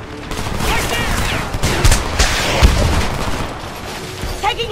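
Heavy gunfire in the war shooter Homefront, with dense fusillades of rifle and machine-gun shots and booming blasts throughout, loud and sustained, with a voice briefly heard amid the battle.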